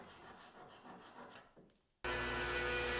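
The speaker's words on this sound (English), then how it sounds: "after doing a test fit, I decided to just cut them off with the pull saw" A pull saw rasping back and forth through wooden finger joints in a shop, steady rubbing strokes up close, then a sudden loud broadband noise cuts in near the end.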